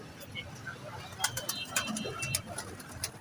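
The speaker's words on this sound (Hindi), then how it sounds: "तो कबूतर बाहर निकल आए हैं।" Soft coos and rustling of pigeons outdoors as they feed on scattered grain, with scattered sharp clicks and light background noise, fairly faint throughout.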